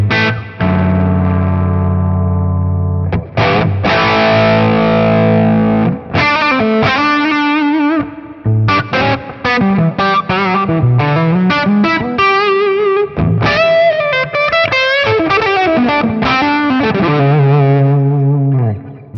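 Heavily distorted electric guitar through an effects pedal rings out in loud, busy riffs, with a long sustained chord at first, then choppy bursts, bends and quick runs with brief gaps, no voices over it.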